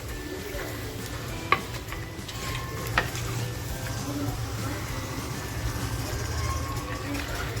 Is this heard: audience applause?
no